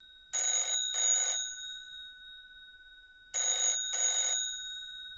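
A telephone bell rings in two double bursts, each pair of short electronic trills followed by a pause, loud and close against an otherwise silent background.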